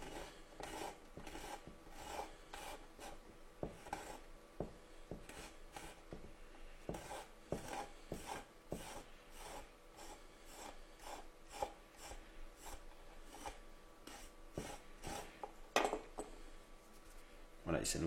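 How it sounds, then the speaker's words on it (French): Rosemary stems are scraped with a knife in a kitchen, giving a steady series of short rasping strokes in a regular rhythm, close and quiet throughout. "Et avec un couteau, on vient gratter comme ça."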